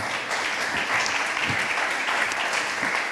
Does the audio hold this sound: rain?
no